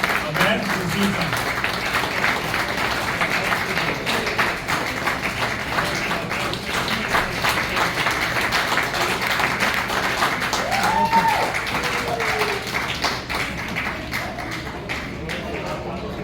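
Audience applause at an award presentation, a steady wash of many hands clapping throughout at moderate volume, with some voices in the room and a brief tonal sound partway through.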